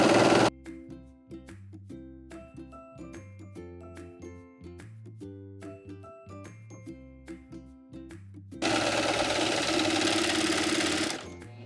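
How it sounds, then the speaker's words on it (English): A sewing machine stitches the neck binding on a T-shirt crop top, running in short bursts of varying speed with brief pauses, close and alone, ending in a longer, louder continuous run. "sew a little bit, line everything up, make sure your binding is flat and not twisted"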